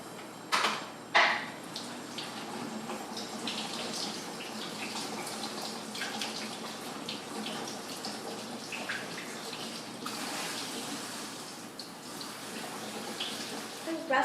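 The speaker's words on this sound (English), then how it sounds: "To start off, I'll give the blueberries a little rinse and throw them into this little pot that I have." Blueberries rinsed under a running kitchen tap, a steady close rush of water with a few brief splashes and clatters near the start, alone without talk.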